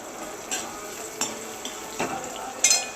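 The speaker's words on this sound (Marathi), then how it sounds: "कांदा, लसण, अद्रक आणि कढीपत्ता छान परतून घ्यायचं आहे।" Onion, garlic, ginger and curry leaves sauté on a low flame with mustard seeds, giving a soft steady sizzle with a few light spatula scrapes against the pan and a brief clink near the end.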